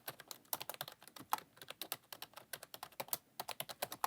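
Rapid, uneven clacking of keys on a Lenovo computer keyboard, close and steady for several seconds with no voices.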